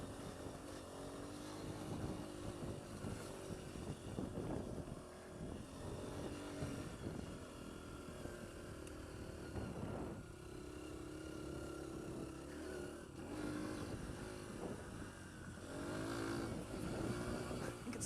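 A Honda CRF150F dirt bike runs steadily with its engine droning and shifting in pitch as it rides over bumps, loud and close throughout with no talking.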